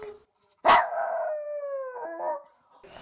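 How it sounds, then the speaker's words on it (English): A dog lets out a long, wavering howl that rises and trails off, preceded by a short yelp and followed by a brief whine, close by. "He is the best loud dog."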